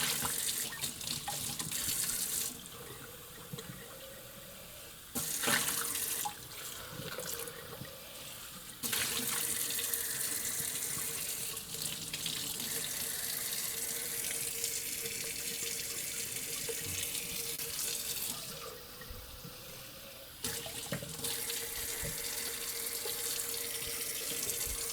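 Water runs from a tap into a sink for sponge washing while working on a cosplay costume, a steady close hiss that shifts in strength as the flow or objects under it change, with a few brief breaks.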